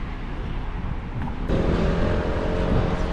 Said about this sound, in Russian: Там машины идут, блин.